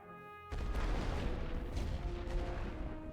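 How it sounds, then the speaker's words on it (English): Heavy artillery fire in the First World War strategy game The Great War: Western Front, a sudden deep boom that breaks in and rolls on as a dense, rumbling barrage, loud and sustained. "I'll drop some heavy artillery on them"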